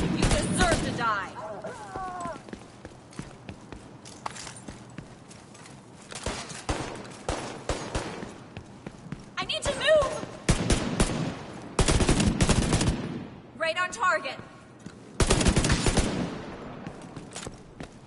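Bursts of automatic gunfire in The Division 2, loud clustered volleys separated by quieter gaps, with game voices calling out between shots.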